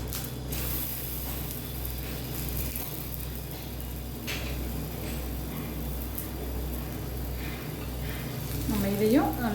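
Wheat flour snack frying in oil over a medium flame, a steady soft sizzle running throughout with a brief louder rise near the end.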